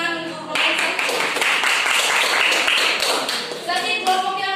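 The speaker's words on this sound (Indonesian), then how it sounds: "tepuk tangan untuk Profesor" Schoolchildren in an elementary classroom clap for a classmate, a brisk burst of many hands that starts abruptly after a voice and runs for a few seconds before another voice returns.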